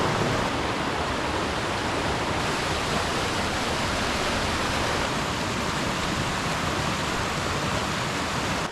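A main river in the New Zealand wilderness rushes in a loud, constant broadband roar close by, steady from start to finish with no other sounds.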